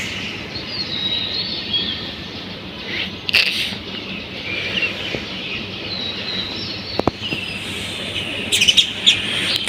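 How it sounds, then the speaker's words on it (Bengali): Birds chirp on a calm early morning in Dhaka with a light breeze. Several birds tweet continuously, with a few louder, sharper calls standing out near the end. "দেখুন পাখিরা কিন্তু খুব শান্তিতে বসে আছে।"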